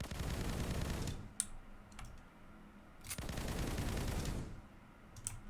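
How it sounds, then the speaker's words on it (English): Exploding bullets fire in the video game Praetor, coming as bursts of rapid gunfire rounds separated by short pauses, with sharp cracks at the ends and light clicking between. "All bullets now explode."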